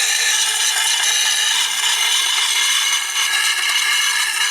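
A kukri recurve knife is held against a spinning stone wheel, giving a steady, loud, unbroken abrasive hiss as the blade follows the curve.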